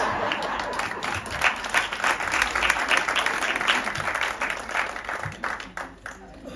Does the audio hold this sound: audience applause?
yes